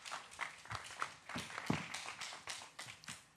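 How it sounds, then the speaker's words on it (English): Applause at a community town hall hosted by Mayor Eric Adams, heard as faint, scattered hand claps that come in an uneven, sparse patter rather than a full ovation. "Nothing better than a good clap in town hall"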